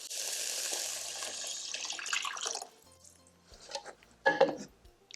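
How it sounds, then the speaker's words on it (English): Water pours steadily into a pot of garbanzo bean soup for a few seconds, then stops, followed by a couple of clinks and a metallic knock. "Now I'm going to add 6 cups of water."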